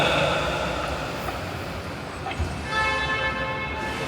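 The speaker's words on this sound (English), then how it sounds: "Looks like this tram is getting ready to depart." A Disney Mickey & Friends and Pixar Pals parking tram pulls away from its stop, a steady rumbling drive with a constant broadband rail-like hum, and a faint chime-like tonal ring entering near the end.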